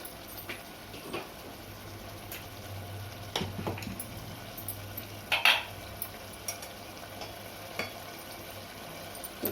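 Pre-cooked rice is mixed into Hyderabadi chicken fry biryani in a pan: soft, intermittent scrapes and clacks of a spoon against the pan over a faint, steady sizzle, close by and without talk.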